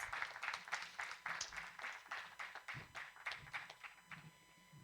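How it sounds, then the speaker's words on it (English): An audience applauds as a colonel is welcomed to the dais at a book conversation event, a steady spread of claps from a moderate-sized crowd, quiet and somewhat distant throughout. "Please give him a big round of applause."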